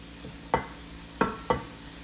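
Tofu stir fry being stirred in a hot pan on a stove set to 4: three distinct scraping strokes, fairly close and moderate in volume, over a faint background with no speech.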